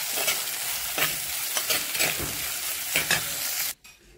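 Crushed garlic and ginger sizzle in hot oil in a pan with fried fenugreek, a steady crackling fry broken by the scrape and clatter of stirring every second or so, cut off abruptly near the end.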